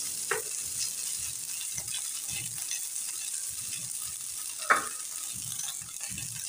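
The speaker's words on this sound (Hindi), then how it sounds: "मज़ीद हम 3 से 4 मिनट चिकन की इस तरीके से भुनाई कर लेंगे।" Chicken fries in a pan with a faint, steady sizzle, broken now and then by soft stirring taps and one brief clink, heard up close without talk.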